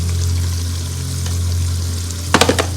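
Garlic and ginger paste fries in a pan with a constant close sizzle over a low hum, ending in a quick burst of spoon taps against the pan.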